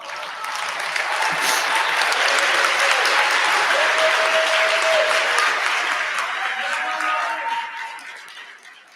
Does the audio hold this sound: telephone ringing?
no